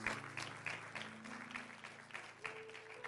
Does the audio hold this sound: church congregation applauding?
yes